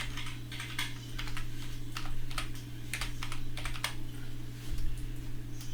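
Someone types a short name on a computer keyboard, renaming a texture in Unreal Engine 4. The keystrokes are quick, light and close, with a steady low electrical hum underneath.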